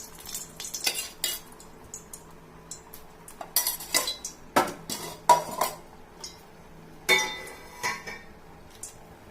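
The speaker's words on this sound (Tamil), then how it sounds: "இப்போ தாளிப்புக்கு பக்கத்தில் நம்ம கடாய் வச்சுருக்கோம்" Metal cookware clanks and scrapes in short bursts, a kadai set down on the stove and shifted with clinks of utensils, nearby with quiet pauses between.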